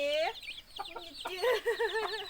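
Chickens cluck loudly and close by inside a coop, several short rising and falling calls in quick succession.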